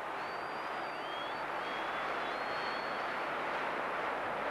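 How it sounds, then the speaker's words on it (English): A large stadium crowd applauds a footballer during a Sunderland versus Millwall Division 2 match, a steady, broad roar of clapping and cheering that continues without a break, distant and wash-like. "Tremendous applause for Paul Hardiman"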